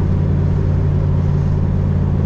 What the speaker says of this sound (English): Gonna be taking this X22 code car on a short drive. And boy, does it sound good.